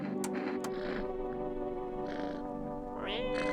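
A cat meows a few times in a game scene, short tonal calls over a steady musical and ambient backdrop with a faint voice present.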